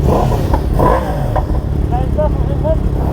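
Kawasaki ZX-4RR motorcycle engine revving, loud and close, with a few sharp rising throttle blips over an idling rumble while people talk nearby.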